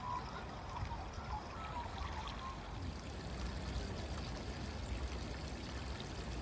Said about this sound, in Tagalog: Balong na tubig sa baybay ng ilog.